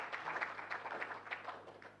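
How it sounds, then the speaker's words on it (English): An audience at a Malawi National Youth Council launch event claps in applause, a faint, steady patter of many hands heard from a distance. "as we give a very big round of applause"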